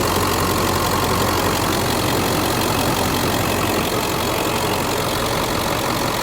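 A stock 2000 Ford Excursion Limited 4WD with the 7.3L Powerstroke diesel idles up close, a loud, steady, even clatter with no change in pace.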